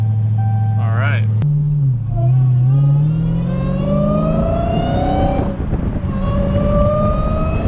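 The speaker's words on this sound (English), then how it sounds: "everyone hears the supercharger, they're just like, what the hell is that?" A Dodge Challenger Hellcat accelerates hard, its engine note climbing alongside a high, rising supercharger whine that builds as speed increases, close and loud.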